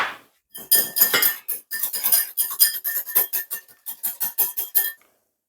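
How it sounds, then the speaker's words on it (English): Whisking chocolate mousse mixture with hazelnut syrup in a bowl: a close, steady run of rapid metallic clinks and scrapes from the whisk striking the bowl, about four seconds of rhythmic strokes with no talk. "gonna try to whisk it together"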